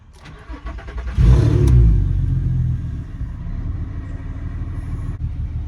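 Audi TT mk1 with a VR6 engine and no rear exhaust box, cold-starting: a short cranking burst flares into a loud, deep rumbling idle, then settles to a steady, throaty murmur.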